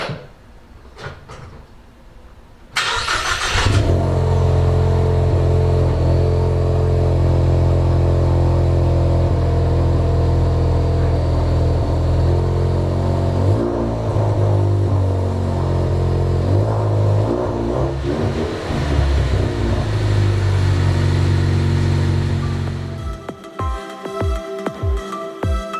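A Ford Mustang fitted with a newly installed MBRP aftermarket exhaust idles loud and steady with a deep rumble, blipping the throttle a few times midway before the engine shuts off near the end.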